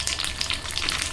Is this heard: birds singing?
no